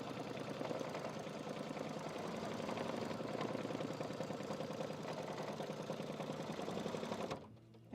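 A sewing machine runs steadily at speed, stitching a satin outline to tack down a fabric stem, its dense rapid chatter continuing loud and close for about seven seconds before cutting off abruptly.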